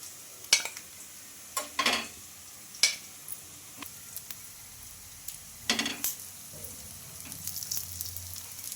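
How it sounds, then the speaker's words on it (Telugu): Sago pancakes roasting and being flipped on a pan for a no-deep-fry breakfast, a soft steady sizzle broken by several sharp scrapes and clinks of a spatula against the pan, close and moderately loud with no talk. "రెండు వైపులో బాగా తిప్పుకుంటూ కాల్చుకోవాలి వీటిని"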